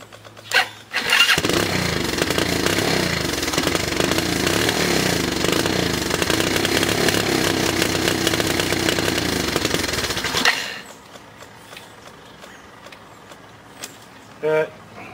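A Kawasaki KLF 185 ATV engine runs after a starter rebuild, a loud, steady close-up buzzing roar for about ten seconds that then cuts off, leaving faint background sounds and a brief knock.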